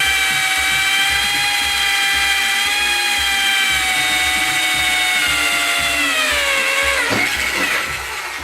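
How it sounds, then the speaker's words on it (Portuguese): A drill bores into metal at low speed, a loud, close, sustained whining tone with a mechanical rumble beneath, sagging in pitch toward the end before a grinding catch. "Lembre-se, furar metal é com baixa velocidade."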